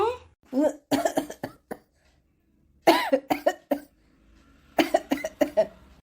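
Several bursts of coughing from a person ill with fever, in harsh clusters spread across the clip with quiet gaps between them, close and fairly loud.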